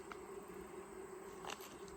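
Honey bees at a beehive, a faint steady droning hum of many insects close by, with a couple of brief louder buzzes.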